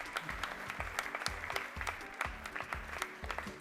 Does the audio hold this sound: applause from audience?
yes